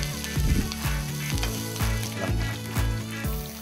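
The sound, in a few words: sautéing garlic, turmeric, onion and ginger in a pan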